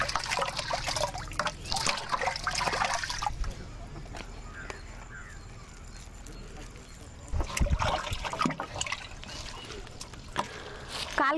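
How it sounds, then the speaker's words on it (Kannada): Cow dung is stirred by hand into water in a drum while making jeevamruta, giving sloshing, trickling and dripping liquid sounds in uneven bursts, with someone talking over parts of it. "ನೋಡಿ 1 ಕೆಜಿ ಸಗಣಿನ ನೀರೊಳಗಡೆ ಹಾಕಿ ಕಲಿಸ್ತಾ ಇದ್ದೀನಿ."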